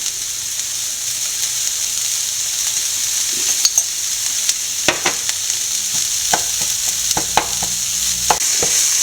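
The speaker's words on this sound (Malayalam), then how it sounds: "നല്ലപോലെ എല്ലാം കൂട്ടി യോജിപ്പിക്കുക." Broccoli egg thoran being stirred in a pan: a steady frying hiss carries throughout, broken by sharp spatula scrapes and taps that come in irregular bursts, close and fairly loud.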